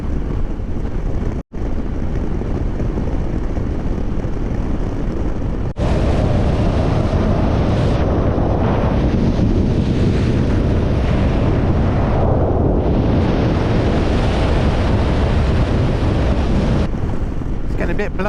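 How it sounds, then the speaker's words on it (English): Strong gusting wind buffeting the microphone during a motorcycle ride along a coastal road in Andalusia, a loud continuous roar that swells and drops, with engine rumble underneath. "It's getting a bit blowy now."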